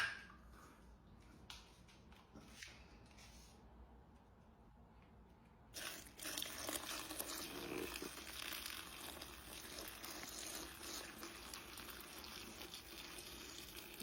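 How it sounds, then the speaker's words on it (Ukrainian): Water is poured over apples in a half-full bucket to make homemade vinegar: after a quiet stretch with small knocks, a steady close gush of filling water sets in and continues. "Тепер заливаємо все це водичкою так, щоб покрило."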